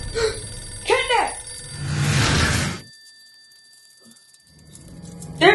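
Telephone ringing in the video game Poppy Playtime Chapter 3, two bright electronic ring bursts early on, then a rushing whoosh and near silence, with a loud voice close at the end.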